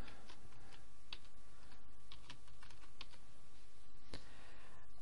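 Quick, light keystrokes on a computer keyboard at close range, irregular clicks and taps in short bursts over a quiet background with no speech.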